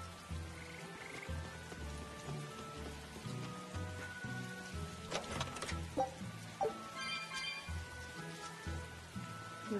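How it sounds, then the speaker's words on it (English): Rain falls in the video game Tales of Berseria as a soft, constant patter. Loud, rhythmic frog croaks sit over it, with a few sharper chirps near the end. "It rains so much in West Ham."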